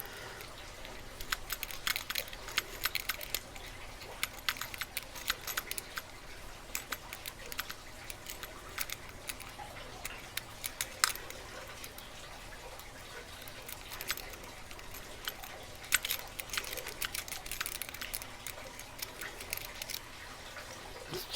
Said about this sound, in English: Have a little trouble with the tension wrench here.